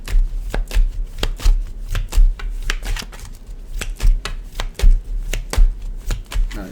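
A deck of tarot cards is shuffled by hand up close, with loud rapid riffles and snapping card edges coming in repeated bursts.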